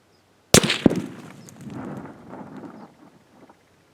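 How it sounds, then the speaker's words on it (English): A 22-250 rifle firing a 45-grain Winchester jacketed hollow point at a 25-pound clay block 200 yards away: one sharp crack, a second quick report, then a low rolling echo that fades over about three seconds. "We'll be shooting at this 25-pound block of clay from a distance of 200 yards with a 22-250 using a 45 grain jacketed hollow point by Winchester."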